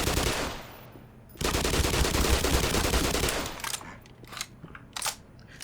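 MP5 submachine gun fire in the Black Mesa game: a dense, steady automatic burst lasting a couple of seconds, followed by a few scattered sharper shots and clatter.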